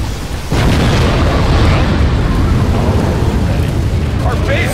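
Scud Storm missiles from Command and Conquer Generals, a real-time strategy game, detonate in a loud, continuous rumbling blast that swells after a brief quieter start and rolls on heavily to the end.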